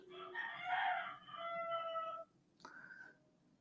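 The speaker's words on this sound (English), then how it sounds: "They got some roosters." Roosters kept by neighbours crow in two long, loud calls one after the other, followed by a shorter, fainter crow. There is no talking.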